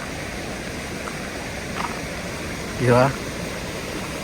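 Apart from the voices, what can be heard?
stream flowing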